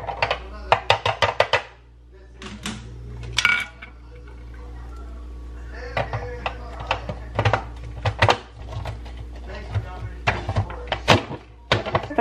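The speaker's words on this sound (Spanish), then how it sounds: "ya estoy picando el jitomate" A knife chops tomato on a cutting board in a home kitchen, sharp close taps in quick bursts with short pauses between, over a low background hum.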